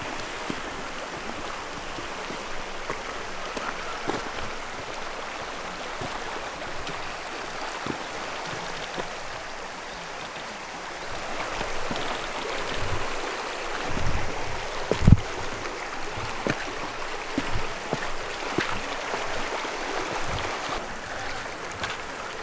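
River water flows steadily in an outdoor setting in France, a continuous broad rushing wash with some wind buffeting the microphone, and no talking.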